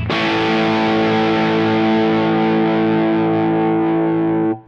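A single sustained chord rings from an electric guitar on its bridge pickup with the volume at full, through an amp head with gain near 7 to 8 for a slightly saturated crunch. It holds loud and steady alone, then cuts off abruptly.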